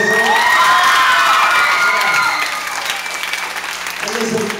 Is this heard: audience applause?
yes